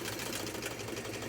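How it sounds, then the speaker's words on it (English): A vintage Brother 151 sewing machine, with freshly lubricated gears and mechanisms, runs steadily with a quiet, even mechanical whir and fast rhythmic needle clatter, heard alone and fairly faint. "I'm working on a vintage Brother 151 model sewing machine"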